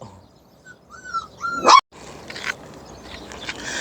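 A dog gives a few yelping barks and whimpers close by, building to a sharp loud bark near the middle, followed by quieter rustling and handling noise.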